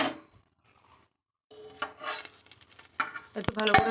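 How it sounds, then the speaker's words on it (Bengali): A bay leaf fries in hot oil in a pressure cooker while vegetarian ghugni is being prepared; after a near-silent gap, a faint, close sizzle builds up, mixed with light stirring and scraping. "এটা ফ্রাই হতে থাকুক, ততক্ষণ আমি এটা তেজপাতা দিয়ে নিই।"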